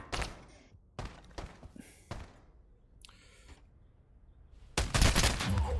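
Semi-automatic gunfire in a close-quarters shooting session, several sharp separate shots spaced about a second apart, then a louder burst near the end, with no talk.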